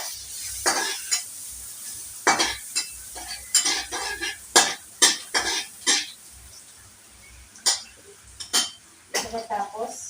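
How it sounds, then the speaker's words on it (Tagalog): Sliced onions stirred in a pan, with repeated sharp scraping and clinking strokes of a utensil against the metal over a soft sizzle, close and fairly loud, with a faint cough and no clear talk. "Igigisa natin yung sibuyas"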